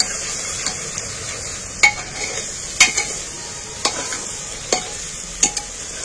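Garlic is stirred and fried in a pan, a constant sizzle broken by repeated sharp scrapes and taps of the spatula at irregular intervals.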